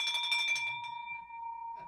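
A new office bell rings with a rapid, bright metallic trill that stops abruptly, leaving a clear ringing tone that decays slowly, followed by a faint second strike near the end.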